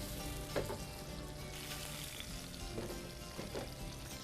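Grouper fillet, salted and peppered, searing in very hot oil in a pan, giving a steady, close sizzle and crackle with a few sharper pops, no talk over it.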